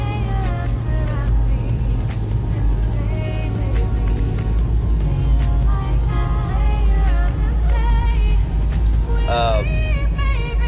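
A 2002 Chevy Blazer 4x4 with freshly changed Type F transmission fluid drives up the road, its engine note steady and loud throughout, rising and dropping through gear shifts over a continuous rumble.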